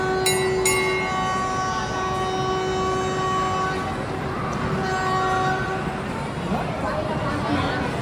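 An amusement ride train arrives, with a sustained tonal horn toot at the start over rumbling running noise, while someone talks throughout.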